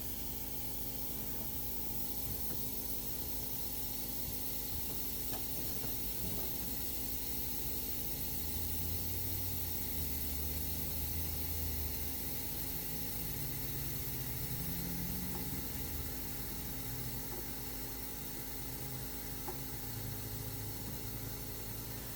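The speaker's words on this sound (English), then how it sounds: "My damn compressor has a leak." An air compressor leaks air with a continuous, faint hiss over a low mechanical hum, steady throughout with no talking.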